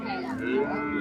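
A single cow at a cattle market gives a drawn-out, close moo lasting about a second, with voices and market bustle behind it.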